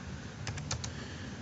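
A computer keyboard being typed on while entering a router command: four quick, light key clicks in a short burst over a soft background hiss, with no voices.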